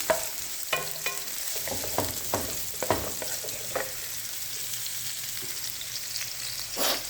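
Ginger and garlic sautéing in olive oil in a pan, a steady close sizzle with scattered stirring clicks and scrapes throughout, no talking.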